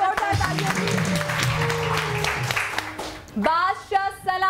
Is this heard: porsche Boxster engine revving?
no